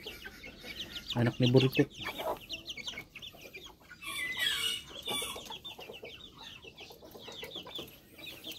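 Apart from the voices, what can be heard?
chickens clucking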